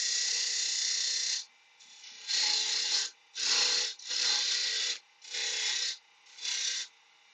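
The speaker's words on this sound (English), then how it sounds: "I'm just using the roughing gouge here because it's quick." Roughing gouge shaping a wooden snowman blank spinning on a lathe, a loud rasping cut repeated in five or six bursts of about a second each, separated by short pauses, close and without speech.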